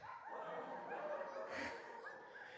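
A person imitating a dog barking while telling a story about a dog at a church Sunday service, a short voiced yip-like bark over a steady background murmur.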